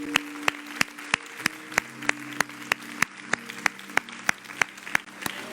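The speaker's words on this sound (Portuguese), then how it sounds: "Vamos aplaudir a Ele." A church congregation applauds during a worship service. The clapping is fairly faint and thin, with sharp, evenly spaced claps standing out over a soft wash of sustained organ-like tones.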